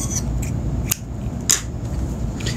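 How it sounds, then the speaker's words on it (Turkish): Scissors snip through crochet yarn up close, two or three short, crisp cuts over a low, steady background hum. "Bir zincir çekerek ipimi kesiyorum."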